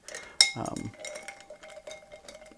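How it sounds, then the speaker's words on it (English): A bar spoon stirring a clear cocktail with ice in a mixing glass, a sharp clink followed by soft swirling tinkles of ice against glass, close and quiet. "we're stirring this because we have all clear ingredients in here"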